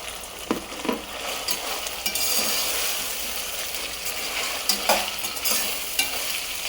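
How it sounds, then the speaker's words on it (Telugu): Onions, tomatoes and green chillies fry in a pan for khichdi, with a continuous crackling sizzle broken by repeated scraping stirs of a spoon against the metal, close and fairly loud. "వేగిన తర్వాత ఆనియన్స్ టమాటో పచ్చిమిర్చి ఇవన్నీ కూడా వేసుకుని వేగించుకోవాలండి"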